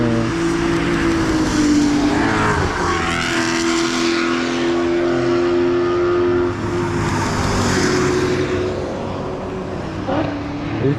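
A loud race car engine roars past on a racetrack at high revs, its pitch shifting as it passes, with another car swelling in and fading.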